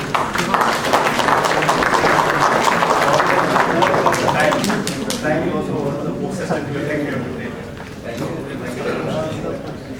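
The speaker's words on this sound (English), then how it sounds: "Mr. Manoj Kanchan, please give a huge round of applause." An audience at a seminar panel discussion applauds, a dense sustained clapping that holds strong for several seconds and then gradually thins and fades.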